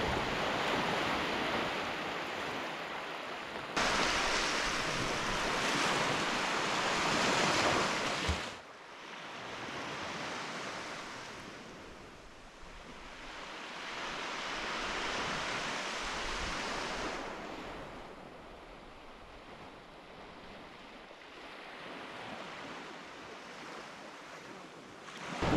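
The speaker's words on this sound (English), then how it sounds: "The current is just ripping past." Strong ocean current and waves rush past a remote island shore, a continuous broad roar that swells and eases in long surges, loud and close with no voices.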